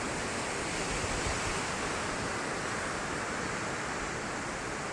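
Flood water surges down the Panna river in a constant broadband rush, a steady roar with no breaks or voices.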